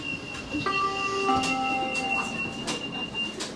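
A Sheffield tram runs along its rails with a steady rolling rumble and thin, sustained wheel squeals that rise and fall, heard from on board with no talking.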